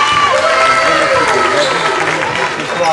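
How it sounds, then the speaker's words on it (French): Supporters at a Le Havre Basket versus Aulnoye basketball game applaud and cheer in a continuous loud crowd roar of clapping and shouts, with a voice speaking over the din. "applaudi, acclamé par les supporters"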